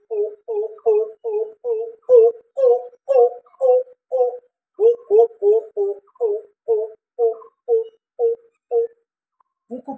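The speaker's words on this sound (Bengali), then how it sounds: "যাকে কুকো পাখি বলে আমরা চিনি। কুকো পাখি ডাকছে।" A coucal calls at dawn in a steady series of about twenty deep, hollow hoots in quick even rhythm, clear and fairly close with no talk over them.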